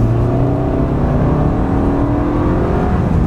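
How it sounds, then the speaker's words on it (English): Volkswagen car accelerating on a road, a steady loud engine drone with rising harmonic tones as it gathers speed, heard from inside the car with no talk. "Not a bad time to check the acceleration."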